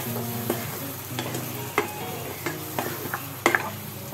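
A spoon stirs and mixes spicy chicken masala gravy in a pan, making repeated scraping knocks over a steady simmering sizzle, close and fairly loud, with no voices.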